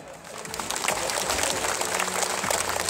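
An audience bursts into sustained, dense applause that swells quickly and holds steady and loud for the whole stretch, with no voices on top.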